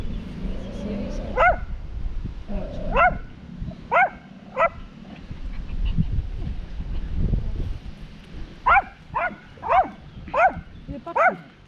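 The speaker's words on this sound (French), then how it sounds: "il y a un petit chien qui t'a aboyé tout le matin" A small dog barks in several bursts of quick yaps, clustered in short groups with pauses between, fairly close, over low background rumble and faint traffic-like noise.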